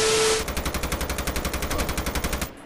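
Rapid automatic gunfire from an enemy in Call of Duty Mobile rattles in a steady burst of about twenty even shots lasting two seconds, moderately close, then cuts off.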